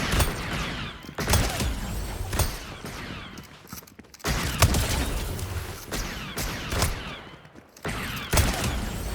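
Wrecked revolver shots ring out in a Star Wars themed Fortnite map, a series of sharp, loud gunshots spaced irregularly with mechanical clicks and rattles between them.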